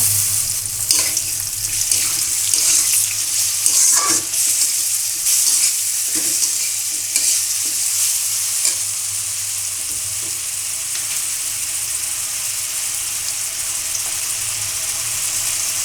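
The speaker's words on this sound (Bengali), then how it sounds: "দিয়ে দিলাম জিরা বাটা পেঁয়াজ রসুন বাটা" Cumin, onion and garlic paste fries in a pan with steady, close sizzling broadband hiss, broken by scattered stirring knocks and scrapes through the first half, then settling into an even sizzle on its own.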